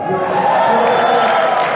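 A large concert audience roars with cheering and shouting at a spoken-word evening in Raleigh, North Carolina, a steady, loud wash of crowd noise filling the whole moment.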